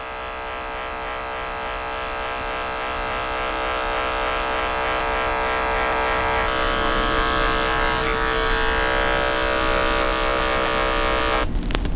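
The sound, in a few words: electric hair clippers cutting hair, clipper over comb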